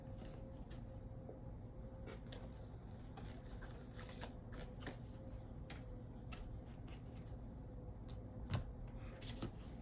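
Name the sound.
shuffling and drawing tarot cards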